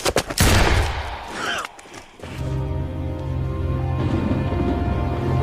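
A loud gunshot bursts out at the start of a World War II film scene, with a few sharp cracks in quick succession before a lower steady rumble.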